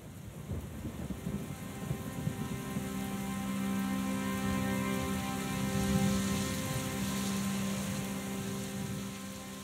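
Steady rain falls with rumbling thunder in a children's song, a dense continuous hiss with low rolls and sustained musical tones underneath.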